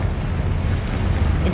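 Confringo explosive spell blast in the video game Hogwarts Legacy, a dense, loud rumbling boom that roars steadily throughout with no pause or speech.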